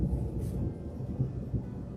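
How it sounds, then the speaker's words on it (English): Low rolling thunder from an approaching thunderstorm, a soft continuous rumble with a few faint swells, heard from a distance with no talk. "I told you we're going to get a thunderstorm, you hear it?"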